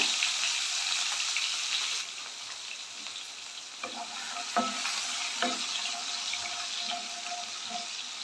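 About ten crushed garlic cloves sizzle steadily in a hot pan, with a few soft stirring scrapes and clicks partway through; no one speaks.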